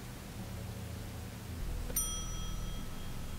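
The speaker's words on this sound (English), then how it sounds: "Oh, a bell." A small shop bell in The Wolf Among Us video game, a single bright ding that rings out clearly and decays slowly over quiet background ambience.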